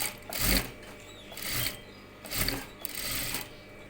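A sewing machine stitches both edges of a fabric face mask in short bursts, its close mechanical whir rising and stopping four times with brief pauses between runs.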